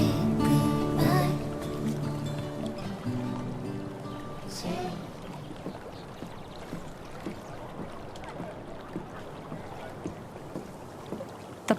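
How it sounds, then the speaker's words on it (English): Kayak paddling in the game Life Is Strange: True Colors, soft rhythmic splashes and water swishes following a brief musical passage, fairly quiet and even throughout. "If not for the paddling, kayaking would be super relaxing"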